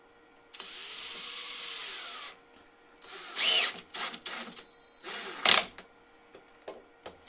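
A power tool drives screws into a woodturning mount, giving one long steady whir of about two seconds, then shorter bursts and clicks as the screws are snugged down.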